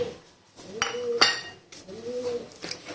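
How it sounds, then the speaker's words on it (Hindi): Spices and ginger-garlic paste being stirred into 500 grams of yogurt in a bowl for biryani, heard as a few sharp spoon clinks against the bowl between softer scraping, with faint tonal chirps in the background and no talking. "दही में सारे मसाले मिक्स कर दूंगी।"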